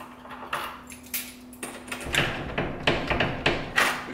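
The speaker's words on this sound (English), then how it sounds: "with my regular keys, which are in my pocket, then we can lock that door" Keys jangling and metal lock clicks as a door is locked, a run of close, sharp rattles and clunks in quick succession, growing busier toward the end.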